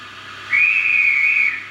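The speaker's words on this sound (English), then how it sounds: "is the guard's whistle" A single steady, shrill railway guard's whistle blast on a station platform, held for about a second over a faint background hum.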